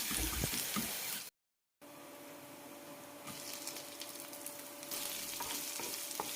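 Chopped onions and bitter gourd sizzling and sautéing in hot oil in a pan for a jackfruit seed and bitter gourd stir fry, a steady close frying hiss with a brief silent gap, then the sizzle returning, no talking.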